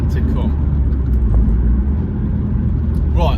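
A Honda Civic Type R FN2 on the road produces a loud, steady low engine rumble from inside the cabin, with someone talking over it.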